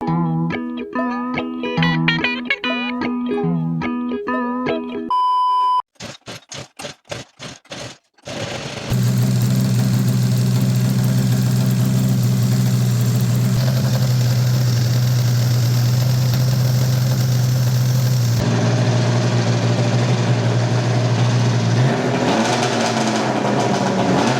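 After an opening stretch of music, a big block two-stroke race mower engine catches after several rapid cranking bursts and settles into a loud, steady, buzzing idle close by, with no talking.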